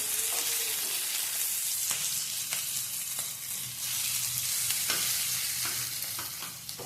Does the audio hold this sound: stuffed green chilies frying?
yes